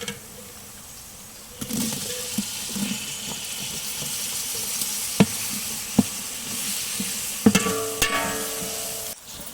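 Ginger sizzles in hot oil in a pan as chopped tomatoes go in for a village-style chicken biryani. A steady frying hiss carries sharp clinks and stirring scrapes, loudest near the end, with no voices.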